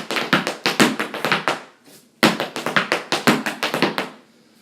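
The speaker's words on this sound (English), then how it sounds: "just by dropping the heel as you're coming back," Rapid hard-soled Irish dance shoe taps with a heel drop, in two rhythmic bursts separated by a brief pause, crisp and close, each phrase a quick clattering run of beats.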